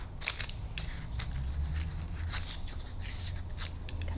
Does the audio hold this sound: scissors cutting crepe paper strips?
yes